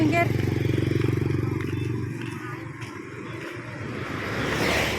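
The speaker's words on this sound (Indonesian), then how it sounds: "Awas anak motor." Motorcycles pass close by at a roadside religious gathering, a throaty engine rumble swelling and fading while people talk nearby.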